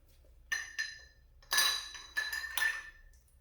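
Stainless steel tri-clamp fittings clink sharply about five times at close range, each a bright metallic ring against near silence.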